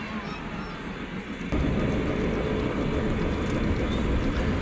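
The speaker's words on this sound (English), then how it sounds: "we've got the local passenger train coming around" Model passenger train rolling around a Christmas holiday railroad layout, a steady rumbling clatter that swells louder partway through and holds close and continuous, with faint talk in the background.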